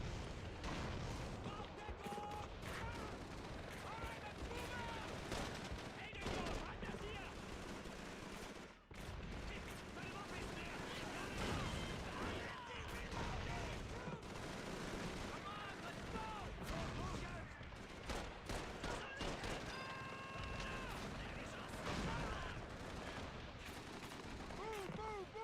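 M1 Garand rifle fire in a World War II style video game, with repeated sharp shots and bursts amid a dense, loud battle din of explosions and other gunfire, with a voice speaking at times.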